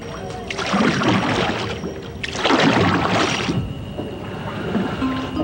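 A wooden country boat pushes off onto the water, with two broad bursts of splashing and sloshing that swell and fade over steady rippling water noise, with no voices.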